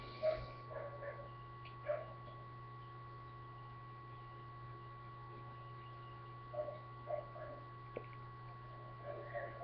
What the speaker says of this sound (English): Sorry for all the barking next door.